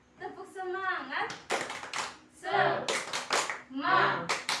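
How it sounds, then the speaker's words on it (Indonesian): A classroom of children doing a rhythmic spirit clap in an Indonesian lesson, bursts of patterned handclaps alternating with a teacher's voice and the class chanting along. "kita tepuk semangat dulu ya"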